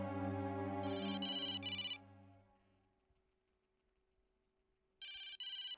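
A telephone rings in two bursts of rapid trilling bell tones, separated by a quiet gap, while a sustained low musical tone fades out early on.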